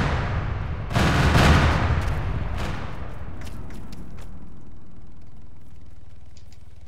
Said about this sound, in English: I couldn't hear you over the explosion